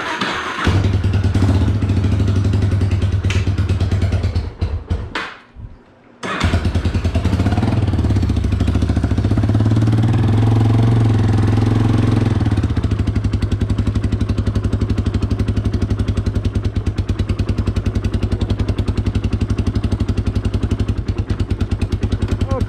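A Yamaha Warrior ATV engine runs loud and close with a steady, throbbing mechanical rumble, briefly cutting out and restarting partway through, then holding a continuous run.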